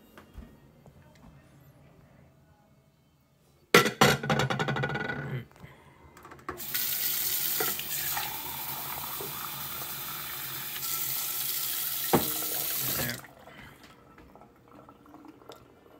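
Water runs from a tap to refill a drinking glass in a kitchen, a bright steady hiss lasting several seconds between clinks and handling noises, close and fairly loud.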